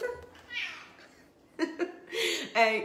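A pet cat meows indoors, giving a drawn-out call and then a shorter one, while someone talks and laughs close by.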